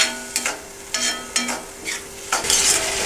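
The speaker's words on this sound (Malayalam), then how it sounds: "ഉള്ളി നന്നായി വഴറ്റിയെടുക്കുക" Onions sautéing in a pan for a Kerala-style egg roast give a steady sizzle. Several spoon stirs and scrapes against the pan land at roughly half-second intervals, close and clear with no talking.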